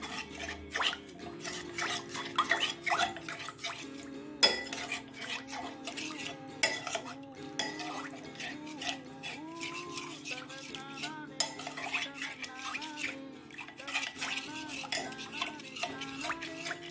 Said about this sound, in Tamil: நல்லா மிக்ஸில் இது போட்டு நல்லா மிக்ஸ் பண்ணிக்க போகிறேன்